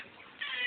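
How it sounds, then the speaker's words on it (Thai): A cat meows once, a short bright tonal cry rising out of quiet background noise, heard alone and fairly close. "ก็ได้ยินเสียงแมวขออภัย"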